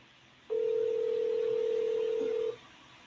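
A telephone dial tone sounds while a call is placed: one steady, pure tone starts abruptly, holds for about two seconds and then cuts off, over faint room noise.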